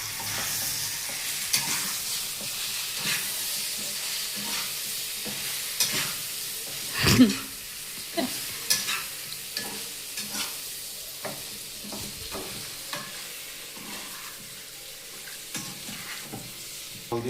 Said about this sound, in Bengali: দিয়ে দেবো কচুরমুখী দিয়ে ভালো করে ভেজে নিতে হবে।